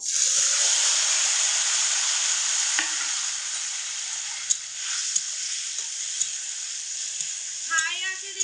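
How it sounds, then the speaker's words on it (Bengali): Tomatoes frying in a pan with dried red chillies, whole cumin and panch phoron for tomato chutney, a loud steady sizzle with occasional stirring clicks and scrapes throughout, no talking. "টমেটোগুলোকে মোটামুটি দু মিনিট সময় মতো ভেজে নেব"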